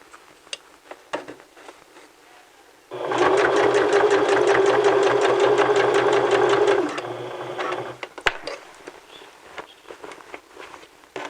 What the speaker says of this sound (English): And then continue sewing